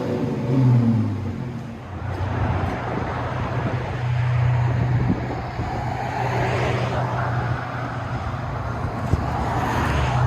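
A 2010 Dodge Challenger with a 3.6L V6 and Flowmaster Super 44 exhaust idles with a steady low rumble, swells briefly at the start, then holds a droning tone, recorded close with some wind noise.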